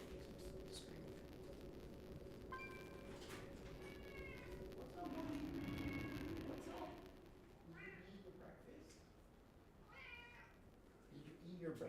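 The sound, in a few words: pet cat meowing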